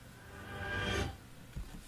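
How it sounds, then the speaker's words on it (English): A reversed orchestra hit swells up from nothing to a sudden cutoff as the opening of GoldenEye: Source game music. The rising rush is fairly quiet, followed by a soft low thump, with no voices. "I took one of those orchestra hits and I played it backwards, so it does some kind of an intro tune"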